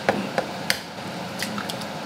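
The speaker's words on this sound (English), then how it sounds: "I'm just gonna crack it straight into the pan like that" Eggs cracked straight into a pan in a home kitchen, a few sharp, brief taps and cracks spread over two seconds against a soft background hiss, close up and with no voices.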